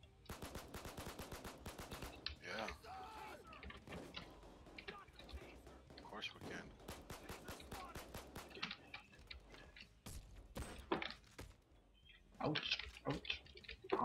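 Gunfire in the Payday 2 heist game: rapid automatic bursts and scattered single shots come in clusters, some close and loud, mixed with a player's talk over the action.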